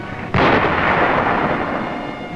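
Enemy artillery and gunfire from a 1945 war documentary, a single loud, sudden boom that rumbles on for about two seconds.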